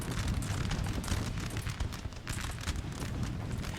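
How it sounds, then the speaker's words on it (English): Artillery fire in a Napoleonic Total War multiplayer 4v4 battle: a dense, continuous barrage of rumbling booms and crackling bursts, loud and unbroken throughout, with no voices. "they are getting chopped to pieces by artillery"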